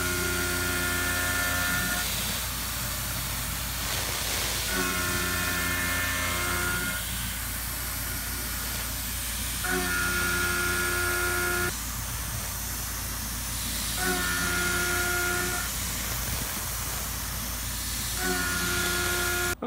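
A metal press die part for a press brake is machined down to size, giving a steady hiss broken by repeated whining cutting bursts roughly every few seconds, with no talking.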